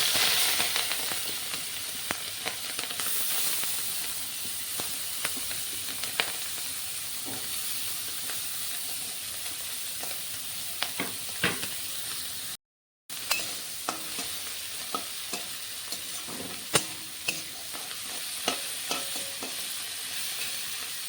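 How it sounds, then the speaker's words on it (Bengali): Pieces of fish rubbed with salt and turmeric fry in soybean oil in a wok, a continuous loud spitting sizzle with frequent pops and crackles and a brief cut of silence midway, no talk. "এখন নুন হলুদ দিয়ে মাখিয়ে রাখা মাছগুলো আমি ভেজে নেব।"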